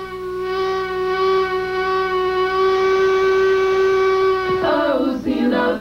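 A sugar cane mill's steam whistle, powered by steam from burning cane, blows one loud, steady, sustained harmonic blast for about four and a half seconds before breaking into a rough, sputtering finish.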